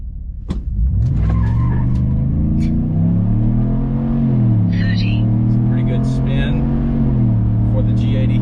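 Chevrolet pickup with a 5.3 engine launching with wheel spin, a loud close engine roar climbing in pitch, dipping briefly, then rising again, with someone talking over it.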